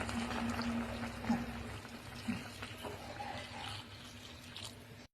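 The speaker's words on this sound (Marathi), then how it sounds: "गरम पाणी थोडं टाकणार आहे शिजायसाठी" A steady stream of hot water pours and splashes into a pot of cooking mutton, with a faint background hum.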